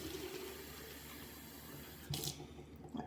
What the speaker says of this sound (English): But I also want to refill this with tap water.